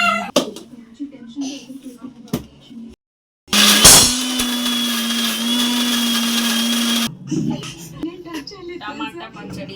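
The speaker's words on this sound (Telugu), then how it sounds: "తాలింపు వేసిన టమాటాలు మిక్సీలో వేసి పల్లీల పొడి అందులో వేసి ఇంకొక రౌండ్ తిప్పేసి తీసేయాలి" A kitchen mixer grinder whirs loudly for a few seconds, blending fried tempered tomatoes with peanut powder into chutney, with household noise and a brief pause just before it.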